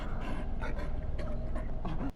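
A dog in The Backrooms video game pants and whimpers steadily at close range and moderate volume, with soft whines over continuous breathing.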